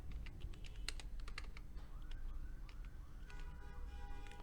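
Keys clacking in an irregular run as text is typed into an Excel spreadsheet on a computer keyboard, close and fairly quiet, with a faint distant siren wailing in the background.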